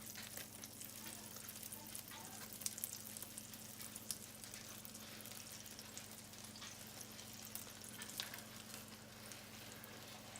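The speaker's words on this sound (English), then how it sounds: "we're going to fry both sides of the tortilla" A tortilla for Spam breakfast burritos fries seam side down in a pan, giving off a steady, even sizzle with a soft crackle that runs throughout, close and unbroken, with no talking.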